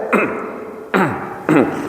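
Three short, throaty ahem-like throat clearings, each a quick rough burst, spaced roughly a second apart.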